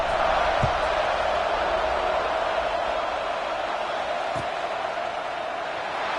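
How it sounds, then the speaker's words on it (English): A packed football stadium crowd at a Georgia vs LSU game keeps up a steady, loud, broad roar after a touchdown, with a couple of brief thumps in the mix. "this crowd is buzzing after that last score."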